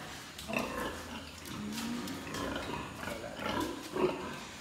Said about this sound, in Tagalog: Ay, ang tataba ng mga baboy. Yan sila. Ito mga pregnant pa rin.